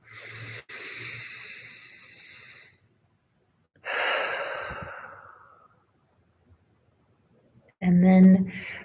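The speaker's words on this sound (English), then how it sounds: "One more deep breath here." A slow, deep breath drawn in and let out during a guided relaxation practice, soft and close, with a second long exhale following, and a brief voice sound at the end.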